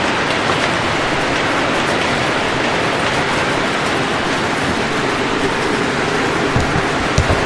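A model train with MTH Empire State cars runs on a home layout, making a steady, close rolling rumble and hiss throughout, with a few sharper clicks of the wheels near the end.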